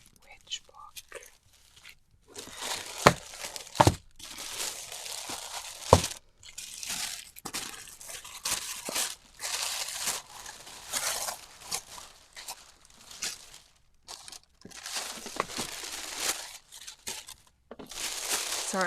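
Paper and packaging rustle and crinkle close to the microphone as a parcel holding two books is unwrapped, with bursts of crumpling and tearing and soft whispered talk in between.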